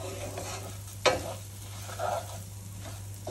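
Risotto rice being stirred and toasted in oil in a pan, a soft steady sizzle under a constant hum, with a sharp scrape of the spoon and a few quieter stirring sweeps.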